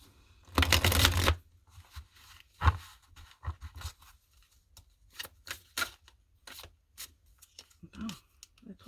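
Tarot cards being shuffled by hand, a dense riffling burst near the start followed by scattered soft card slaps and flicks, close and fairly quiet, with no talking.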